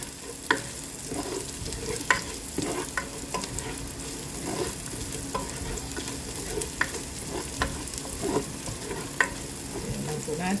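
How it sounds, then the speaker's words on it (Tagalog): Raw carrots sizzle steadily in a hot pan while a utensil stirs and scrapes them in irregular clacks and scuffs, fairly close with no voices. "Lagay na po natin ang ating carrots kasi hilaw pa siya. So, hayaan po muna nating maluto ang ating carrots."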